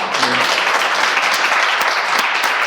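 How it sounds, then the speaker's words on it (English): A crowd claps steadily, a dense, even wash of applause that holds at the same level from start to finish. "And can you all give Randy a clap of love?"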